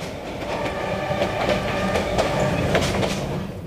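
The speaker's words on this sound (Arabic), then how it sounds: "يشكل القطار وسيلة نقل مريحة للركاب المسافرين خلال الليل" A passenger train travelling through Vietnam rumbles steadily at close range, with a continuous broadband roar and rhythmic clickety-clack of the carriages over the rails, and no talk.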